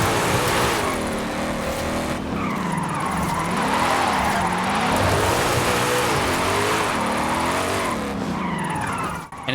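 A car drifts in Forza Horizon 5, driven with a Fanatec CSL DD steering wheel, its engine revving and wavering as tires squeal continuously through linked slides, loud and sustained.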